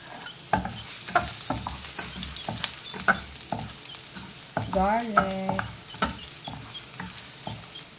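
Garlic sizzles in hot oil in a pan, giving a steady frying hiss broken by repeated stirring scrapes and clinks, close and fairly loud, with no talk.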